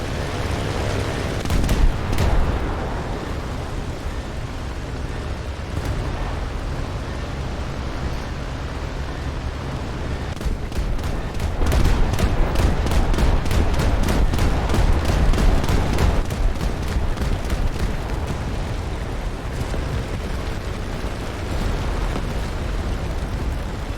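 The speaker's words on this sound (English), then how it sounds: "Somebody just bombed the crap out of me." Bombs burst in a naval air combat video game set at Taranto, with heavy booming blasts over a constant roaring noise bed and a long stretch of rapid rattling fire in the middle.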